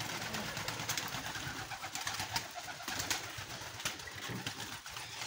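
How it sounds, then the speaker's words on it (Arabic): Pigeons in an aviary, a steady close wash of cooing and fluttering with no voices, continuous and fairly faint throughout. "هذا هو الحميمات كيف كتشوفوا في الفولير"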